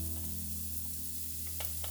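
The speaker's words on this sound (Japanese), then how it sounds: "切った野菜をフライパンで炒める。" Chopped vegetables stir-frying in a frying pan, a steady close sizzle with faint scrapes of stirring throughout.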